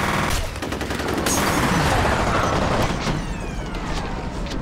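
Rapid gunfire from the first-person shooter game F.E.A.R. rattles in bursts under the game's ambient noise, with repeated sharp shots clustered early and continuing more sparsely toward the end.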